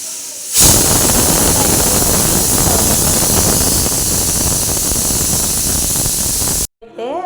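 A pressure cooker whistle releases a loud, steady hiss of steam for several seconds, close and continuous, then cuts off abruptly before a voice briefly speaks.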